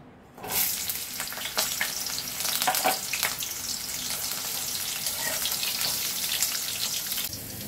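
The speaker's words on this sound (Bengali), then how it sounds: "এবারে এর মধ্যে আমরা প্রথমে ডাঁটা কাটা একটু ভেজে নেব" Cut drumstick stems hit hot oil in a wok and set off a loud, close sizzle that holds steady over several seconds, with occasional stirring scrapes and no speech.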